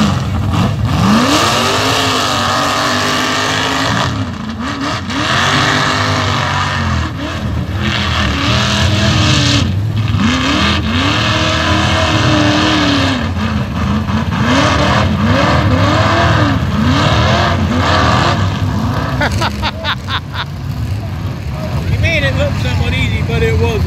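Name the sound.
Perkins truck engine revving at mud bog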